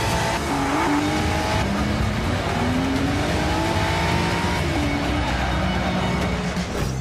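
A Ford GT revs hard, its engine note rising and falling through several loud pulls, with tire squeal and skidding mixed in. The noise is close and continuous, and no voices are heard.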